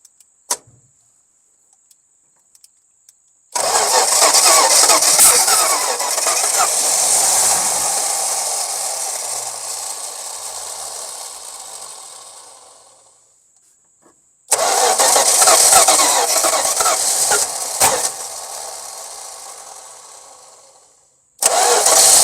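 A Slant Six car engine cranks on its starter in long loud grinding bursts that fire and run briefly, separated by near silence with a few clicks, repeated three times up close.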